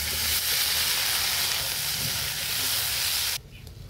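Steamed jackfruit and potato pieces fry in hot oil in a wok with a loud, dense, continuous sizzle, which drops off sharply just before the end.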